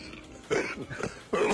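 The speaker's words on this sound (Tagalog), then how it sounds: "Grabe yung ubo niya" A man coughs hard in a played news broadcast, a phlegmy cough in two heavy bursts with a short pause between them, close and loud.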